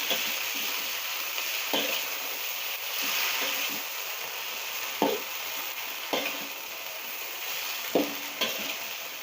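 Chopped leafy greens stir-fry in a hot pan with a steady bright sizzle throughout. A spatula scrapes and taps the pan at a regular beat of roughly one stroke per second, with no talking.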